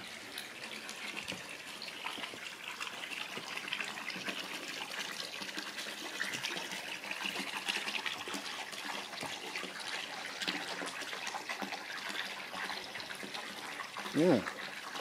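A small electrically powered babbling brook feature splashes and trickles steadily at low level throughout, with a brief louder splash near the end and faint talk in the background.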